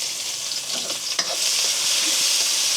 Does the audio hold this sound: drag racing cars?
no